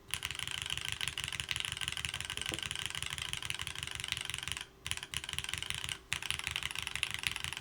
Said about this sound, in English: Let me actually open up notes here, so I'm not typing in random things to nothing.